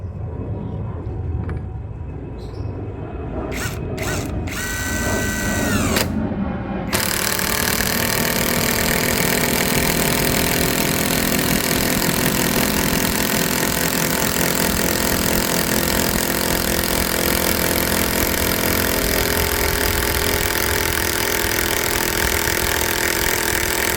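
A cordless brushless DCA ADPL03-14 impact driver with a PH3 bit drives a roughly 12 cm screw into hard meranti wood, a loud continuous buzzing hammer whine starting after a few seconds of lighter clicks and holding steady to the end.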